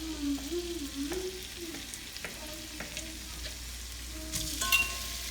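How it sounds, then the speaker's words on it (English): A steady crackling sizzle of hot dogs frying in a pan for frijoles charros, with occasional utensil clinks and scrapes close by. "you can start to hear the sizzle"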